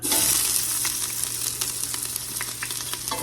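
Onion and jalapeno hit a hot pan, giving a loud, close, continuous sizzle with crackling spatters and light stirring throughout the short stretch.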